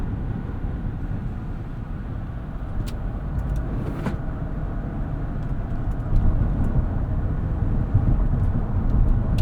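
A 2023 GMC Yukon Denali Ultimate with a 6.2L V8 drives hard around a corner, a steady low engine and road rumble from inside the cabin that grows slightly louder toward the end.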